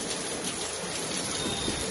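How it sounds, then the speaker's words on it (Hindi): Steady rain falls outside a house, a dense, even hiss of drops on surfaces filling the whole short stretch with no voices. "बारिश हो रही है, नहा लो"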